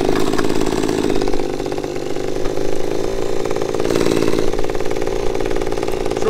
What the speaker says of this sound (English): Now fire up the pump.